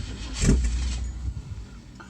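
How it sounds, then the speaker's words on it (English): A Ford Ranchero engine cranks briefly with the key and fires up, a short starter whir rising into a catch and running engine, close and moderately loud. "And it cranks, turns over, fires up"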